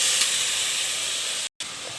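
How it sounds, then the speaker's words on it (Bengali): Water poured onto hot turmeric, chili and cumin masala in a pan sets off a loud, steady, close hiss that holds almost unbroken, with one brief gap. "আমি সামান্য পরিমাণ একটু পানি দিয়ে দিচ্ছি।"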